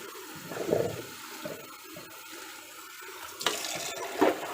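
Water poured from a bottle into a bathroom sink basin during cleaning, with faint splashing and two brief louder gushes near the start and end, without talk.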